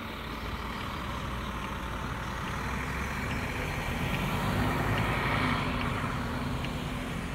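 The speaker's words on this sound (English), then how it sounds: "Traffic." Steady road traffic with truck and car engines rumbling continuously at a moderate distance, a broad unbroken drone with no voices.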